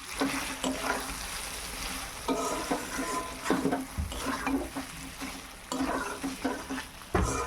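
Chicken sautéing in a pan while being stirred, a steady broadband sizzle broken by repeated scraping and clinking strokes of a spatula against the metal, close and fairly loud throughout.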